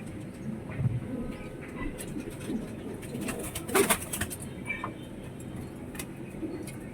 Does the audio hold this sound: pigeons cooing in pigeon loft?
yes